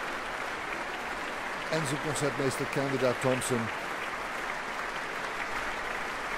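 Steady applause from a concert audience for a chamber orchestra and its concertmaster continues at an even level, with an announcer speaking over it partway through.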